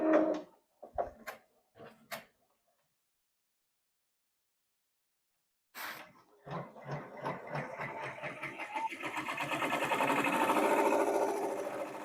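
An embroidery machine stitches the placement outline for a leaf on a chunky pumpkin mug rug. A few clicks and button beeps come first, then a pause. Its steady mechanical whirring and rapid needle ticking start and build into a continuous hum.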